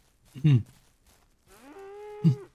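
Cattle in the farming game Ranch Simulator moo twice, a short low grunt followed by a longer drawn-out call, close and clear against a quiet background.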